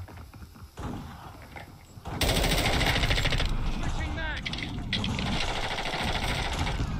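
Gunfire in Call of Duty: Modern Warfare 2, dense rapid automatic shots rattling loudly after a quieter opening stretch, continuing to the end.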